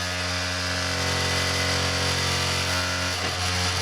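A desktop hard drive spins with its platter cut in half, giving a steady, loud mechanical whir with a strong low hum and layered harmonics that holds without break, wobbling briefly near the end.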